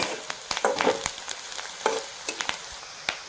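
Curry leaves sautéing in a pan for onion peanut chutney: a soft, close frying hiss broken by several sharp spatula scrapes and taps, with no talking.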